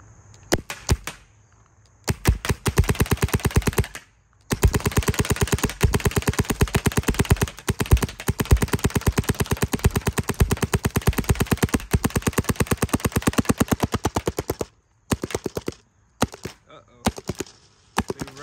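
Paintball marker fitted with an Empire Freak XL barrel firing long rapid strings of sharp, loud pops, broken by a few short pauses and some scattered single shots near the end.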